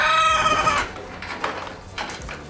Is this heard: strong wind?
no